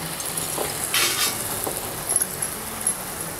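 Jaggery jalebis frying in hot oil, floating as they cook and turned once golden: a steady, bright sizzle with a few light metallic clinks.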